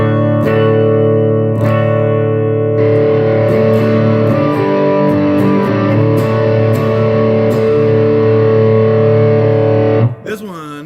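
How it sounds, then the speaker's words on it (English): An electric guitar played through a Pink 1981 Inventions DRV distortion pedal rings out in loud, sustained, gritty chords with a few picked accents, holding for about ten seconds before stopping abruptly. "To me is just like a real kind of basic everyday kind of quote unquote distortion that just sounds really, really good."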